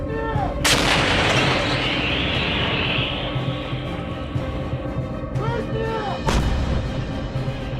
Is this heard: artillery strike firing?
yes